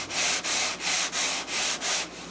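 A motor part is sanded by hand in a steady series of about six back-and-forth strokes, each a close, dry rasping swipe with brief gaps between them.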